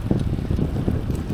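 Gusty wind blows outdoors in the rain, pushing a heavy, continuous rumble against the microphone. It stays loud throughout.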